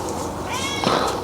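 A cat meows near the door, wanting to be let out, one short rising cry near the end over a murmuring indoor background.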